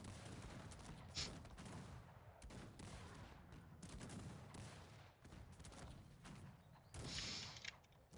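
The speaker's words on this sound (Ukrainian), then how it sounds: "гарматна перестрілка починається" Repeated booming cannon shots from a Cossacks 3 battle, volleys firing in quick clusters against a constant background of game noise, with no talking.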